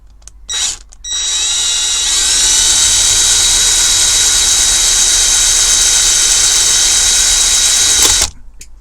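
A power drill with a 4.5mm bit whines loudly at high pitch for several seconds while drilling a Dinky die-cast Ford Transit model, running steadily after a brief start before stopping abruptly.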